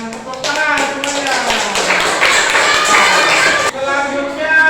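Classroom applause for a group that has just presented: steady, dense clapping from many hands runs for nearly five seconds with voices talking over it and a brief dip near the end.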